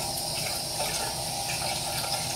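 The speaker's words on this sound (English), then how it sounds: "Now we are going to slowly add water a little bit at a time" Hot water trickles steadily into a shaving soap bowl, a faint continuous splashing pour, close and alone.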